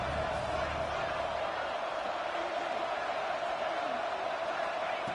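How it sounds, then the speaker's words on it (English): A college football stadium crowd roars steadily while the defense holds in the red zone, a dense, continuous wash of distant cheering with a broadcast commentator's voice over it. "the crowd coming to life here, trying to help this defense down in the red zone"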